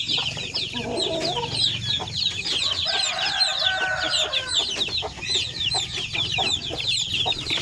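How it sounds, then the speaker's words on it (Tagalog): A flock of 45-day-old Basilan and Zampen native chicks peeps and clucks continuously and fairly close, with overlapping high chirps and occasional louder calls over a busy farmyard background. "Mga sampin po yan na 45 days old."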